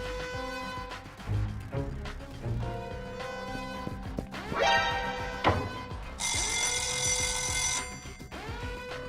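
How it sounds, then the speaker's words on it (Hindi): A fire alarm rings in bright, continuous bursts, with tonal chimes and clatter mixed in, loud and close throughout. "मैंने फायर अलार्म भी शुरू कर दिए हैं, सब कंफ्यूज हो जाएंगे।"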